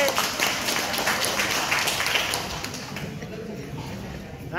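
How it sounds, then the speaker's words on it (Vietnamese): Applause from a classroom group at a Vietnamese certificate course, dense clapping that swells early then gradually thins and fades toward the end. "Vỗ tay"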